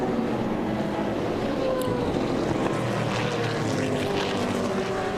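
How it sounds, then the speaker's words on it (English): Race car engine at full throttle during a race, a loud continuous droning roar with shifting pitch, steady and dense throughout, with a faint commentator voice underneath. "Bruce Canepa gets back deep into the throttle"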